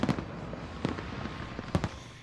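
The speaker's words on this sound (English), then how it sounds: "watch as fireworks showered landmarks, the London Eye and Big Ben" New Year's fireworks burst over the River Thames in London near the London Eye and Big Ben, giving a few scattered, fairly distant bangs, three sharper than the rest, over a steady low crowd rumble.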